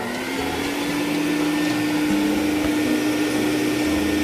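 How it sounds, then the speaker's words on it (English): A vacuum cleaner runs steadily while cleaning out a heavily soiled car interior, a constant close whine with a strong tonal hum and slight pitch shifts as the nozzle moves, with no speech. "so again, I like to vacuum all this out first."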